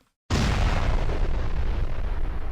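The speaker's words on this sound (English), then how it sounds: "Now we get to witness the explosion radius and the damage with just 1 additional payload." A modular grenade carrying one extra explosive payload detonates in the game Space Station 14: after a brief silence comes a sudden loud boom that settles into a sustained, heavy rumbling roar lasting the rest of the clip, with no talk.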